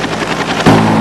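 Philippine Air Force rescue helicopter during flood evacuations in St. Bernard after heavy rain, its rotor chop loud and steady, growing fuller and closer partway through the short stretch with no talk.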